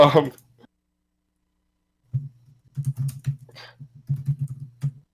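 Typing on a computer keyboard comes close by: a short burst of clicks, a two-second silence, then an uneven run of quick keystrokes and taps.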